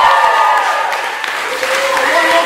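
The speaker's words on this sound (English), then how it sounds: "give them a big round of applause and thank them for their efforts tonight" Audience applause at a live show, a dense, steady wash of clapping that fills the whole moment at close, fairly loud level, with a voice talking over it.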